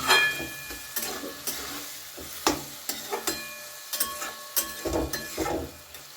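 Spices, onion stalks and potatoes stirred in a pan with a little water, a spatula scraping in irregular strokes over a soft sizzle, close and fairly quiet.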